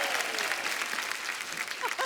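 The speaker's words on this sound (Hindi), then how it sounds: "एक बार कपिल के लिए तालियां।" Studio audience on a Hindi comedy talk show bursts into sustained applause, a dense steady wash of clapping filling the whole moment at even loudness.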